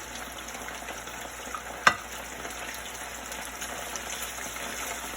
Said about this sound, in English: I'm going to separate them as they fry.